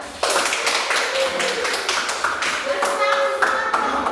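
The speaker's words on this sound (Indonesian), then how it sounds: "Tepuk tangan semua." A class in a traditional-music teaching lesson claps together, a burst of many hands followed by uneven taps and scattered claps, with a few voices talking over them.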